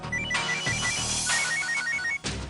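An unanswered telephone rings in repeated electronic trilling bursts, loud and alone, with brief gaps between rings.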